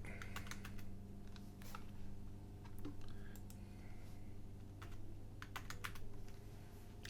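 Soft keyboard typing as a text message keyword is entered, an irregular scatter of light, close key clicks spread over several seconds, quiet and unaccompanied by speech.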